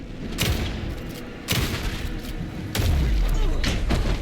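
Gunfire in Alan Wake 2, three heavy booming shots spaced over a few seconds, each with a deep thump and a rumbling tail, loud and close.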